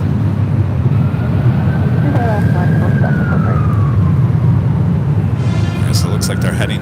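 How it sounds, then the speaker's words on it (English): An ambulance siren near LAX airport rises and falls in a long, fairly distant wail over the steady roar of aircraft and airport noise, with voices talking throughout. "I think what we're hearing is an ambulance heading into LAX."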